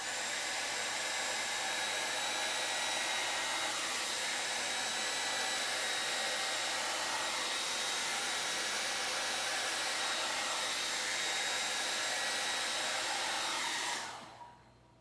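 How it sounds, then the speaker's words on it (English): A hair dryer blows steadily for about fourteen seconds, drying a lot of freshly applied paint, a loud, unbroken broadband whoosh that cuts off abruptly near the end. "All right, got my hair dryer."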